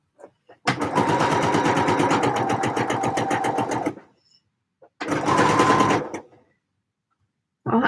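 A sewing machine stitches a skirt seam in two runs, a long steady whir of rapid needle strokes, a pause, then a shorter burst, close and loud with no talking.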